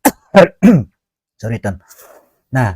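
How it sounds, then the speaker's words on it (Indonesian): A man coughs and clears his throat in a few short bursts near the start, his speech resuming on both sides of the coughing. "Tuh kan batuk jadinya."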